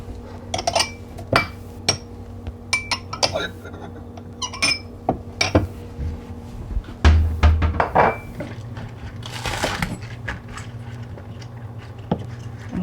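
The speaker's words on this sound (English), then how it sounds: "I'm going to chop 4 green onions" A knife chops four green onions on a cutting board for a Korean budae jjigae stew, giving irregular sharp taps and clicks in short clusters over a low steady kitchen hum.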